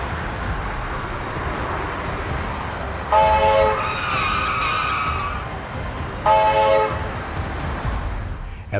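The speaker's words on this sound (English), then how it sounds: "At this crossing, what did you notice first? The train or the car?" A train passes a road crossing, its loud horn blaring twice in long sustained blasts over a rushing rumble of rail noise, with a car nearby.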